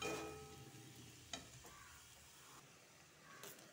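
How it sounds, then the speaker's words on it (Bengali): Garlic, onion, tomato and green chili frying together in a pan, a faint continuous sizzle with a couple of soft stirring knocks and scrapes, quiet and without talk. "রসুন, পেঁয়াজ, টমেটো আর কাঁচা লঙ্কা সব একসাথে ভাজবো।"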